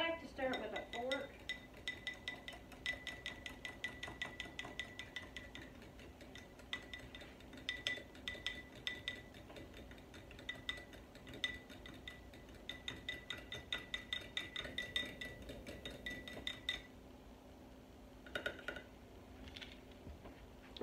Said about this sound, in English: I like to stir it with a fork.